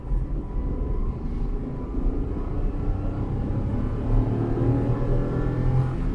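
Renault Kwid BS6 small petrol engine revving, a steady dense low drone with a harsh edge holding loud and close throughout, rising slightly in the second half with no talk over it.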